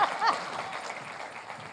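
A conference audience at a Rotary district event claps briefly, a soft scattered patter of hands that is fairly distant and fades toward the end.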